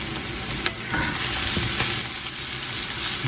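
Charred brussels sprouts, potatoes, onions and garlic stirred together in a hot pan over low heat, a close, dense sizzle with scraping and clinking stirring strokes, no speech.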